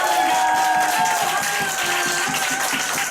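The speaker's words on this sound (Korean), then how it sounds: "크게 박수 한번" An audience at a business lecture breaks into dense, continuous applause, many hands clapping at once over a faint sustained musical tone, with no talk over it.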